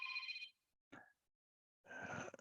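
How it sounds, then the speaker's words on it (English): Telephone ringing in a room: bursts of an electronic ring with a brief chirp between them, separated by near silence, faint and distant. "I've got a telephone ringing in my background, and I'm not going to answer that call"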